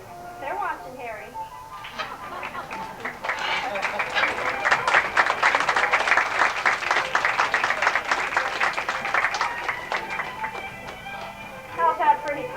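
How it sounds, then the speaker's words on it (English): Audience applause at a bird show, a rattling burst of clapping that swells and holds under a presenter's talking, with bird chirps heard at the start and end. "So let's have just a small round of applause."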